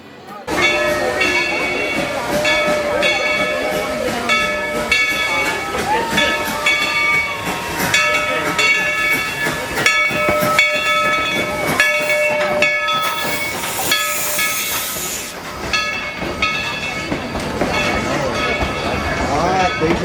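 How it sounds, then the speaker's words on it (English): Dollywood Express steam locomotive on a theme park train ride, with a loud sustained steam whistle, hissing steam and rolling rail noise, the whistle sounding in repeated long blasts over a constant mechanical rumble. "Because the locomotive does require a bit of work, they run the train at select times"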